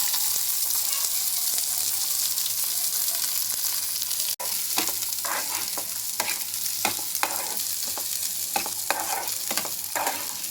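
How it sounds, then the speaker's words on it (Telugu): Sweet corn sizzles steadily in hot ghee in a pan, a dense continuous frying hiss broken by a brief gap and occasional sharp stirring scrapes, close and loud with no talk. "గీ వేడెక్కాక స్వీట్ కార్న్ వేసుకోండి."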